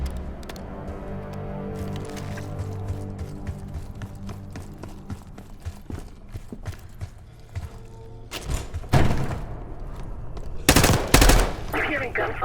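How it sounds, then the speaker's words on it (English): Bursts of automatic gunfire in Call of Duty: Black Ops 6, rapid rattling volleys that grow louder and closer toward the end over a low ambient game rumble. "You hearing gunfire?"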